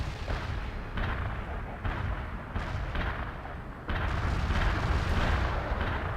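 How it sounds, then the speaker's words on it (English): Artillery barrage in the World in Conflict war strategy game: dense, rumbling volleys of shell blasts and booms roll continuously, swelling louder partway through, with no voices. "Artillery barrage inbound."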